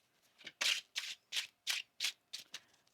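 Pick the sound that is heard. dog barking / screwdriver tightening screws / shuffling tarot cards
shuffling tarot cards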